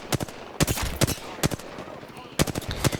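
Gunfire in the Apex Legends video game, a string of sharp, punchy shots in quick clusters with short pauses, loud and close over faint background game noise.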